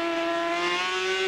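Racing sidecar outfit screaming past at Mallory Park circuit, a loud, steady high-revving engine note with a slight pitch drop as it passes close by.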